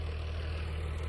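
A loader tractor engine runs at a steady low idle on a farm field being prepared for hay, a continuous close rumble with no voices.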